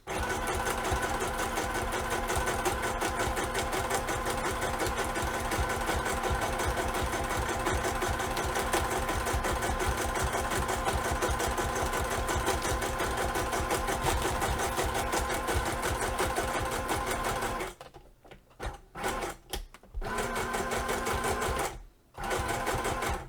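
A sewing machine stitching a zigzag while crafting, a loud continuous whirring rattle of fast needle strokes that runs for most of the stretch, then stops and restarts in short bursts near the end.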